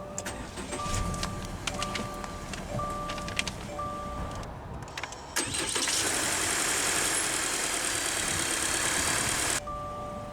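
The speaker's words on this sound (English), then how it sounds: "let's go ahead and start the engine" A 2024 Subaru Crosstrek Limited starts by push button: a chime beeps repeatedly, then the engine cranks and catches into a loud, steady idle that settles as the chime returns near the end.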